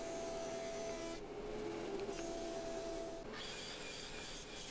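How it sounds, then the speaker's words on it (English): A wood planer feeds maple boards through in steady passes, a loud continuous machine roar with a droning whine that briefly dips between boards, with no talking. "Just running it through the planer a few times to get it down to those dimensions."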